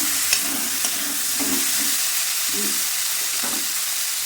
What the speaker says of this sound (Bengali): 2 মিনিট পর আবার নেড়ে দিলাম